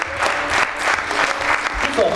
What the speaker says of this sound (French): Applaudissements s'il vous plaît pour ce magnifique plateau.